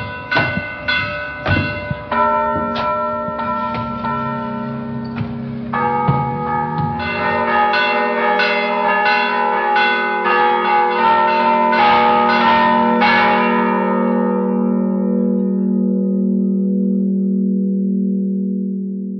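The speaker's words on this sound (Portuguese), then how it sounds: "Eu vou tocar dois sinos," Two church bells, one of them a large deep bell, ring in a town belfry, first in separate strokes and then together, building into a loud sustained peal that lingers and fades at the end.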